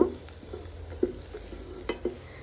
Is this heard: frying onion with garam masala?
yes